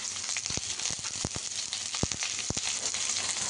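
Mustard seeds, urad dal, curry leaves and onion frying in hot oil for a drumstick-leaf poriyal: steady, close, hissing sizzle with sharp spluttering pops throughout.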